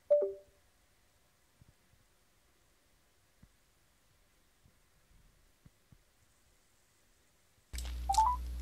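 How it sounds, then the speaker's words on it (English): A Volkswagen Golf Alltrack's hands-free system places a phone call, with a near-silent wait broken by faint clicks before a loud ringback tone starts near the end. "It's dialing right now"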